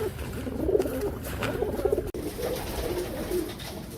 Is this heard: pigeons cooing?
yes